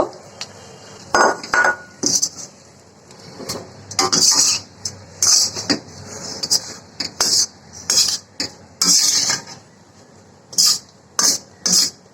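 Fried dried fish being lifted out of a pan, with repeated clinks and scrapes of a metal utensil against the pan in short bursts, plus an occasional cough.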